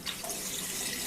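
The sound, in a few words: draining rice rinsing water in sink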